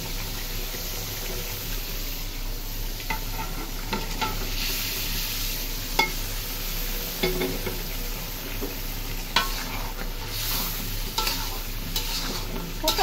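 Egg dropped into a pan of well-cooked spice masala, frying with a steady loud sizzle and stirring scrapes throughout, occasional sharper pops and clicks over the continuous hiss.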